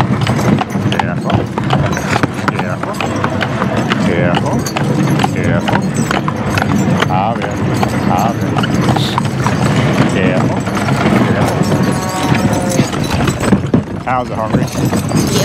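Heavy draft horse hooves clop steadily on blacktop pavement in winter, close by, with a person talking over the rhythmic footfalls.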